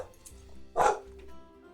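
A dog gives a single short bark, or a yelp-like bark, at close range over a low, steady room hum.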